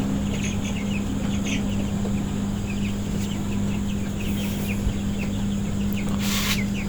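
Twenty-day-old broiler chickens in a shed give faint, scattered clucks and cheeps under a constant loud hum and dense background noise, with no voices.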